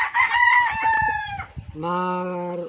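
Backyard gamefowl roosters in Occidental Mindoro crow nearby, one long strained call followed by a second, lower crow, loud and close with clucking underneath.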